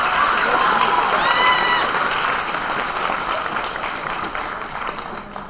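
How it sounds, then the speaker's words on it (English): An audience at a school band concert applauds the band director with steady, full applause that slowly thins, with a voice briefly heard over it. "how about a round of applause for your director, Mr. Miller?"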